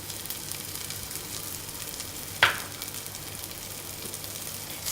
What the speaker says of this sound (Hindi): अब मैं इसमें ये 4 टेबल स्पून कुकिंग ऑयल डालूँगी और इसमें ये 6-8 जवे लहसुन के भुनने रखूँगी